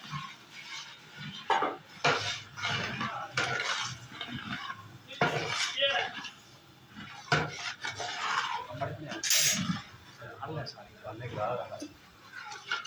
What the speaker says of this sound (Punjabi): ਹਰੀ ਮਿਰਚ ਨੂੰ ਮਿਕਸ ਕੀਤਾ ਜਾ ਰਿਹਾ ਹੈ